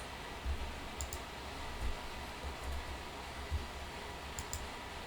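Soft computer mouse clicks, several scattered through the span, faint and close under a steady background hiss. No one speaks.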